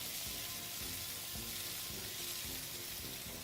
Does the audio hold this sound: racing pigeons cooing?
no